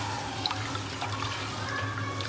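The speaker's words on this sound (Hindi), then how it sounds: "अब ये पानी डालेंगे इसके अंदर, तो पास पानी भर के दे रहे हैं" Water runs and trickles steadily into a bowl in a kitchen, with faint clinks and drips over a low background hum.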